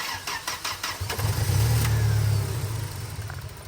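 A Tata car running on gas, with a hard-starting, stalling fault and newly fitted injectors, cranks with a few rapid starter pulses, then catches and settles into a steady low idle, close and fairly loud.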